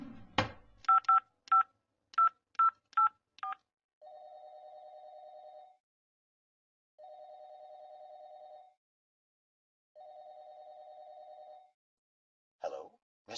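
Telephone keypad tones beep in a quick run of about eight presses, followed by three long, evenly spaced electronic rings with silent gaps between them, then a short click at the end.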